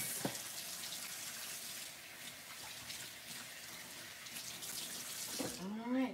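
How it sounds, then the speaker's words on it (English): Hands being rinsed under a running kitchen tap, a steady broadband gush of water lasting several seconds, fairly close, ending with a brief squeak or tonal sweep as the faucet is shut off. "Let me rinse my hands real quick."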